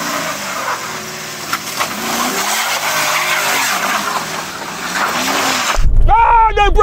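An old SUV, a BMW X5, Range Rover or Porsche Cayenne, revs hard and skids during an off-road race, with steady loud engine and tire roar, a sweeping pitch rise and fall, then a sharp skid squeal at the end.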